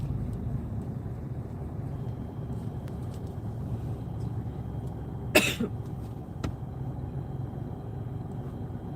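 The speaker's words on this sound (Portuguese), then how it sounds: "eu tô tossindo mesmo" A single sharp cough comes from a passenger inside a moving car, cutting briefly through the steady low rumble of the engine and road.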